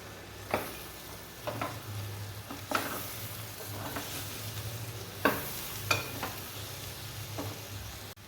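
Spoon stirring meal maker gongura curry sizzling in a pan: soft sizzling and frying throughout, broken by about ten scraping and clinking strokes at an uneven pace, with no talking.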